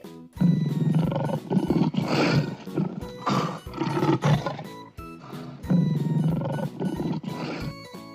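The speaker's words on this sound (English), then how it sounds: "L for lion." A lion roars several times in long, loud, rough bursts with short pauses between them, close and alone with no talk.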